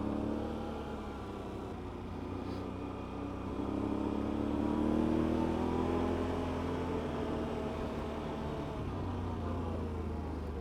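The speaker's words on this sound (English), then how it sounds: "Plenty of pull from the V-twin motor there." Polaris Scrambler or Can-Am Renegade ATV V-twin engine accelerating, a steady close engine drone that rises in pitch and loudness midway, then holds at high revs, with no talking.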